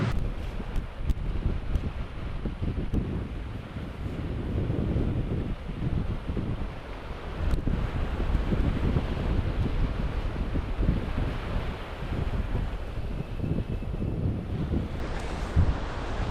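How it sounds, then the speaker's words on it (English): Steady, loud wind buffets the microphone on a UK beach during sea fishing for cod, a constant low rumble with faint surf beneath and no talking. "This wind on the other hand is a bit different."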